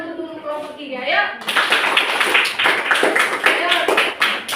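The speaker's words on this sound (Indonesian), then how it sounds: "sekarang tepuk tangan untuk kelompok 3" Schoolchildren in a classroom clap for a group after a teacher's call; a voice speaks briefly, then loud, fairly rhythmic close-up hand clapping starts abruptly and carries on with chatter underneath.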